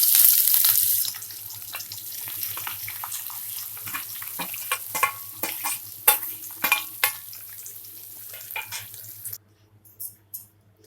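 Boiled potatoes frying in a pan with mustard seeds, cumin and curry leaves, a soft steady sizzle broken by scraping stir strokes and occasional clacks, fading into near quiet at the end with no talking.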